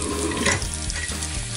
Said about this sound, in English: I'm just gonna fill our sink